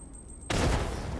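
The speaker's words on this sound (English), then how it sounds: "that was a frag grenade" A frag grenade blast from the 2023 System Shock game: a sudden loud, broad explosion that bursts in partway through and rumbles on with a dense, sustained roar to the end.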